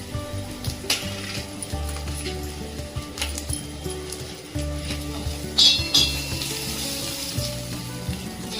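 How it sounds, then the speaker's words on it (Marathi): Ginger and garlic fry in a pan with a steady low sizzle, broken by clinks of a utensil against the metal and some stirring, close and fairly loud with no talking. "तर आपला इथे अद्रक लसूण चांगली फ्राय झालेले आहे, त्याच्यामध्ये घालूया चिली फ्लेक्स।"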